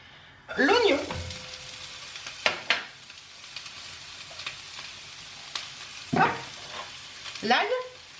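Olive oil crackles softly in a sauté pan on a gas stove, punctuated by a few sharp clatters and scrapes of utensils, with a voice speaking at times.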